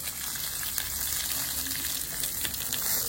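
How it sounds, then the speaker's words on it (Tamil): Dried red chillies and curry leaves fry in hot oil in a pan, a continuous close crackling sizzle at a steady level with no talk. "சித்தமிழாயை கருவேப்பிலையும் ஒன்றா போடுவோம்."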